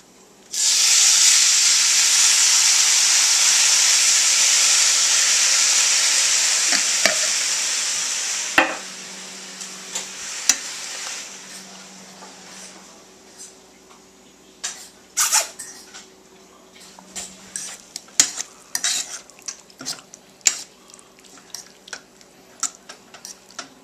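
Ground beef browns in a pan, a steady loud sizzle for about eight seconds that then drops to a quieter hiss broken by scattered clicks and taps.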